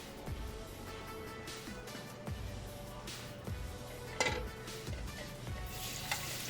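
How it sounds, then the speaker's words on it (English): Continuous crackling sizzle of chicken frying in a hot pan, with occasional scrapes and taps of a utensil against the pan. "That's what you wanna hear, nice sizzle."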